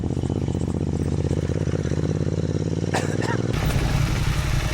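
A heavy motorcycle engine drones steadily while riding an off-road, pothole-strewn track in Fozal Valley, a close, continuous rumble with rattling texture that shifts in tone near the end.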